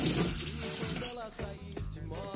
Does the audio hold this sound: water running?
yes